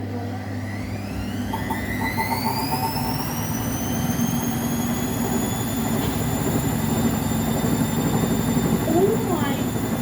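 Vestel washing machine motor running in service test mode, a steady loud whine with rising high-pitched tones climbing over the first seconds, continuous throughout with a voice talking faintly underneath.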